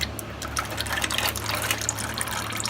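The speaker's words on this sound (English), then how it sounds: "You just want it to completely finish dripping." Used engine oil drains from a car's oil pan during an oil change, a steady liquid gush and splatter into a catch container, fairly loud and continuous with no speech.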